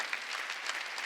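A brief burst of congregation clapping at a Korean church's New Year's Eve worship service: dense, even applause, moderately distant and alone for about a second.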